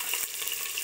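Chopped onion dropped into a hot kadai bursts into a loud, steady sizzle of frying that fills the whole brief moment with no voices.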